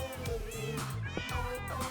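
Cats meowing in the game Minecraft, several short, tonal mews in quick succession with a rising and falling pitch, close and clear over a faint backing of game music.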